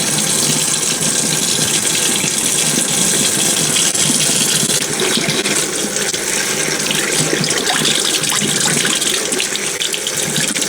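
Tap water runs steadily over homemade butter being washed in a kitchen sink, a continuous close splashing gush with no talk.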